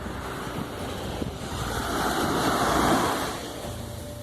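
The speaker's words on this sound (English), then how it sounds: "the beautiful sea and the sound of the waves" Ocean waves wash onto a beach on Crete, a steady surf roar with one wave swelling louder midway and then receding, with no voices.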